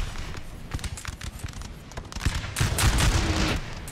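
Napoleonic musket volleys in a battle from Napoleon Total War, crackling bursts of gunfire that thicken and grow louder toward the end.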